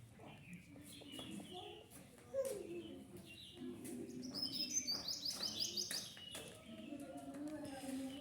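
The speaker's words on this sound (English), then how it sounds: "Parrot. This is a parrot." A parrot chirps and squawks in bright, quick bursts, some fast trilled notes among them, at moderate loudness with no one talking over it.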